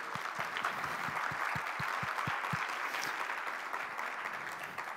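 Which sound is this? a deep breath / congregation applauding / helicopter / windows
congregation applauding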